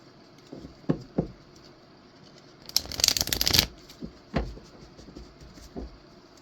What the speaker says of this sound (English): so now we're going to draw from the Star Tarot and see what we're looking at here